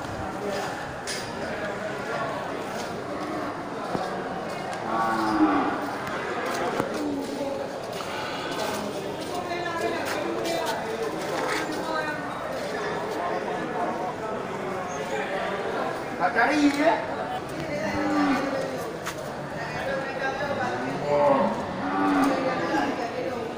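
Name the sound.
albino water buffalo mooing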